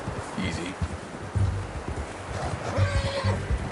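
A horse in Red Dead Redemption 2 neighs and whinnies, with its hooves clip-clopping and shuffling nearby over a rustling outdoor background, while a voice talks alongside.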